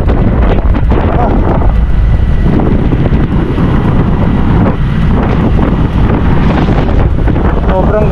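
Strong wind buffets the microphone in a continuous loud roar during rain on a wet road, broadband and gusty throughout, with a voice speaking briefly under the noise.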